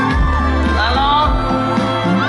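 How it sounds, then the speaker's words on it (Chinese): Concert audience at an outdoor performance screaming and cheering, a dense loud wash of shouts and whoops with music underneath. "全场的尖叫声再来一次"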